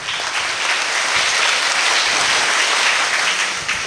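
An audience at a school investiture ceremony for the student council breaks into steady, dense applause that holds at an even level for about four seconds, with no talk over it.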